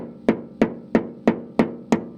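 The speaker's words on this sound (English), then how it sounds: "I usually use a ball peen hammer, but I didn't see one handy, so I grabbed a regular hammer" A regular claw hammer strikes hickory nuts on a hard surface, giving six sharp, evenly spaced cracking thwacks about a third of a second apart, close and clear with no talking.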